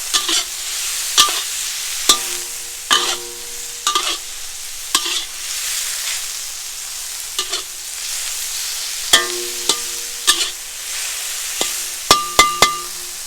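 Bean sprouts stir-fried in a hot wok for char kuey teow, with a steady sizzle throughout and repeated sharp scrapes and clinks of the spatula against the metal, loud and close, in irregular bursts.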